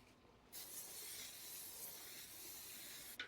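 Cooking spray hisses steadily from a can onto a charcoal grill grate, one continuous close burst lasting about three seconds with a brief sputter at the end.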